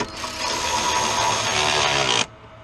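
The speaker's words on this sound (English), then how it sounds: "now I can grab my cordless ratchet and tighten them all down" A cordless ratchet tightens bolts on sheet metal during a starter solenoid replacement on a 1991-1996 Ford Escort GT 1.8L. It gives one loud, steady, close-up whir for about two seconds, then stops abruptly.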